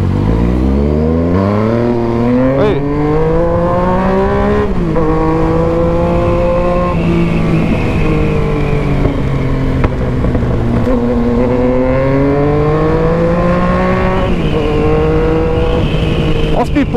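A Yamaha MT-09 motorcycle engine revs and pulls hard, loud and close, its pitch climbing and falling in sweeping waves as the throttle opens and eases off, with no pauses across the stretch.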